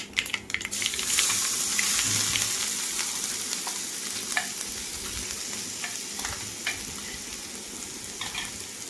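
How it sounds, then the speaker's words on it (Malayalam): Crushed dried red chili, shallot and grated coconut mixture sizzling steadily in a hot pan for a stir-fry side dish, with scraping stirring strokes and brief clinks over a constant frying hiss; no voices. "പിന്നെ നമ്മൾ ചതച്ച് വെച്ച വറ്റൽമുളക് ഉള്ളി തേങ്ങയൊക്കെ കൂടിയിട്ടുള്ള കൂട്ടും കൂടി ചേർത്ത് കൊടുക്കാം"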